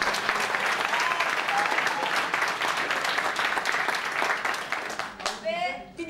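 A crowd applauds steadily for several seconds, the clapping tapering off at the end as a voice begins speaking.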